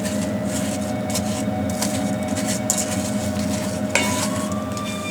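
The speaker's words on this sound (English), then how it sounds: "So just keep giving it a good stir" Cooking apples stirred in a pot as they soften for applesauce, a steady wet scraping and bubbling texture with a few sharper clinks of spoon on pot, close and continuous with no talk.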